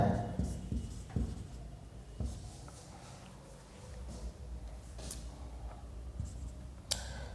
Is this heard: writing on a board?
yes